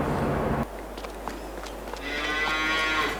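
Cattle mooing in the farming game Farming Simulator 22, a loud low bellow at the start, then quieter livestock shuffling and a rising sustained moo toward the end, with no talk over it.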